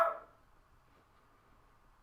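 A single sharp dog bark opens, loud and close indoors, then quickly decays into a quiet room hum with faint low background noise.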